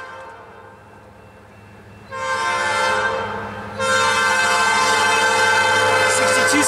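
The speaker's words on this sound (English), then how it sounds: "That's a continuous welded rail train with IC" A continuous welded rail train led by IC 6261 locomotive sounds a loud, sustained multi-tone horn over the rumble of the train. The horn swells after about two seconds and grows louder still near the four-second mark, continuing to the end.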